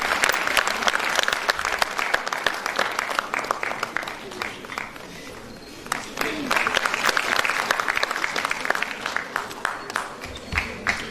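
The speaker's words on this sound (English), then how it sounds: "A huge round of applause, ladies and gentlemen." Audience applause at a conference, loud and sustained across the room, dipping briefly in the middle before swelling again, with a voice talking over the clapping.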